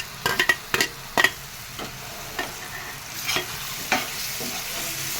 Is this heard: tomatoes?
yes